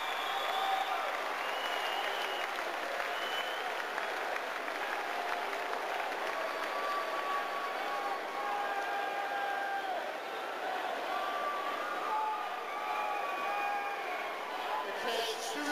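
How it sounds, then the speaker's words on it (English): Hockey crowd applauding steadily as the Stanley Cup is carried out after the 2008 final won by the Detroit Red Wings, a broad distant wash of clapping with crowd murmur and faint voices mixed in. "they are respectfully watching, standing, many of them applauding as it is carried out"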